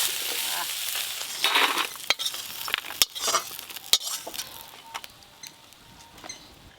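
Crabs frying in a pan sizzle and crackle in a busy hiss, with sharp clinks and scrapes from stirring breaking through at irregular moments; no talking.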